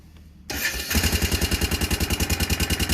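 Motorcycle engine cranking and catching, a brief starter whir followed by a loud, close, rhythmic idle with even pulsing beats.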